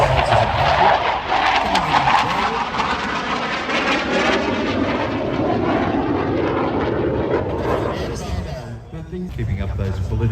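A Royal Australian Air Force Hawk 127 lead-in fighter jet flies at the RAAF Richmond airshow, its engine a loud, steady roar that fades slightly near the end, with an announcer's voice running underneath.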